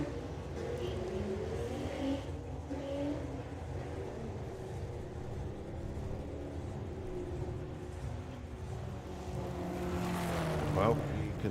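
A race car engine at the Bug Jam festival roars and shifts pitch as it works through gears, rising to a louder burst near the end, with voices talking over it.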